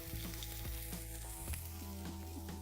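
Lamb lollipops searing on a hot grill, a steady close sizzle and crackle of fat spitting against the grates with no talking.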